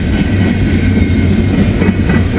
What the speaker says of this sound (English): rare eastbound intermodal that you every once in a while get on this line